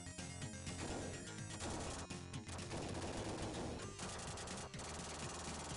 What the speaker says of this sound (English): minigun power up